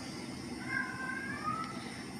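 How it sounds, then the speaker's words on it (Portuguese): A house cat meows faintly a few times in a quiet room, with soft murmuring in the background. "E o meu gato falando."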